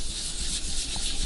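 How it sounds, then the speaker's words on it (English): Rag rubbing turquoise stain into a quilted maple carved-top guitar body, a steady close scrubbing friction with a broad hiss that runs continuously without pauses. "All you gotta do is just keep this rag moving and really manipulate it"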